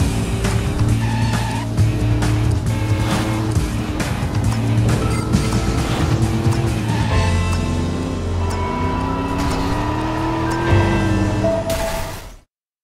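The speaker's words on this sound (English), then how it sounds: "You hear it trash the car." Video game car in Driver: San Francisco skidding and crashing, with loud engine revving, long tire squeals and impacts over a continuous music bed until it cuts off abruptly near the end.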